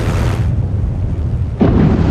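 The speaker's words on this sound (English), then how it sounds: "When the building collapses, the dust cloud will choke the engine" A building collapses with an explosion in RoboCop: Rogue City: a sustained, loud, low rumble that dips briefly, then a fresh heavy blast erupts near the end and keeps roaring.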